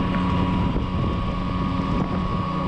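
Steady wind roar buffets the microphone while riding a Yamaha Tracer 9 GT. A dense rushing noise holds constant with a faint engine hum underneath and no voices.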